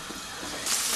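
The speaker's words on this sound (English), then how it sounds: "When the oil's hot, we're going to start putting the meatballs on." Meatballs dropped into hot olive oil in a shallow frying pan start to fizz, with a soft, steady hiss that swells into louder, close sizzling near the end of the brief moment.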